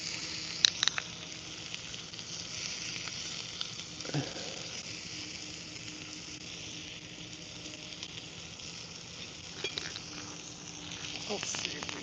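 Steaks seasoned with Worcestershire sauce, wine, salt, pepper and butter sizzle on a grill, a soft steady hiss with occasional pops and a few faint clicks, fairly quiet throughout.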